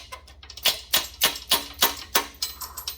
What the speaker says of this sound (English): You're hammering an air hammer right now.